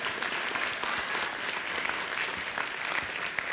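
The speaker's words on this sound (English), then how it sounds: "Give Kyle a round of applause." Dense, even applause from an audience at a professional networking presentation session, steady and moderately loud for the whole short stretch.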